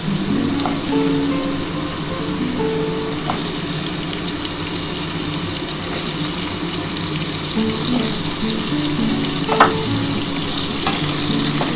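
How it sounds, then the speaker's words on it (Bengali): Potatoes frying in a pan give a steady, loud sizzle with occasional stirring scrapes and small clinks throughout. "প্রথমে আমি আলুটাকেই ভাজবো আগে"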